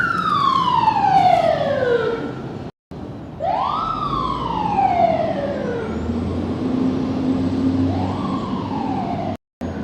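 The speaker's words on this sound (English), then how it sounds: "There's a huge siren." An emergency vehicle siren wails loudly on a New York City street, sweeping down and rising again in long slow arcs, close by, with low traffic rumble beneath.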